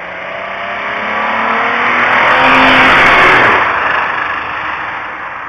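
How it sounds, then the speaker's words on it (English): A car roars past on a city avenue, its strained, harsh engine noise building loudly to a peak mid-way and then fading, sounding rough and overworked as it accelerates by. "Sounds like the engine in this car is about to blow up"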